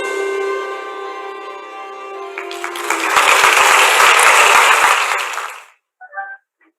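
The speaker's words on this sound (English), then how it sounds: "a virtual round of applause to DBM Secretary Wendell Avisado" Audience applause at a live economic forum, a dense wash of clapping that swells for a few seconds and then cuts off abruptly, following a sustained tonal sound.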